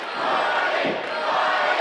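A live wrestling crowd at an NWL event in Kansas City roars steadily, a broad wash of cheering and shouting that stays loud and even throughout.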